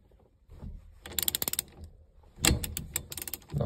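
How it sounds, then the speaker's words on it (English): A 3/4 inch socket ratchet clicks in quick bursts while loosening a Mopar steering wheel, with rapid pawl ticks in two close-up runs separated by duller handling noises. "So let's get some tools out and get that. All right, so we got 3/4 inch"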